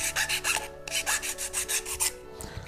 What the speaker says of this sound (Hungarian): Nagyon fontos, hogy fel legyen csiszolva a felület.